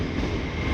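Train pulling into a station, a steady close rumble of rolling rail cars filling the brief moment without any talk.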